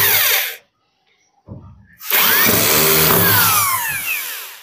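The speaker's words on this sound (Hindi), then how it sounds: "स्क्रू को लूज करेंगे" A power drill drives screws loose on the drawer channel of a bed, loud and close, with a whirring burst, a silent gap and a short blip, then a longer sustained run of motor whine.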